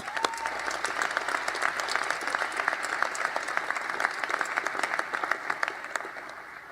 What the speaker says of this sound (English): I think you all deserve a robust round of applause.